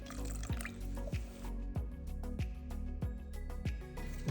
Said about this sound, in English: Just going to add a little bit more water.